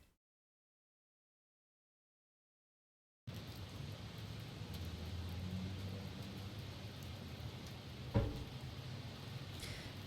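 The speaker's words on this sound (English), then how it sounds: "It was raining outside." Rain falls outside in a visual novel game. After about three seconds of silence, a steady, faint wash of rain begins and continues, with a single dull thump partway through.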